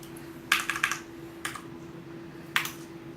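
Clacky typing bursts on a Noppo Choc Pro 104-key mechanical keyboard with Cherry Brown switches, a quick flurry of keystrokes then two isolated presses, close and crisp over a steady low hum.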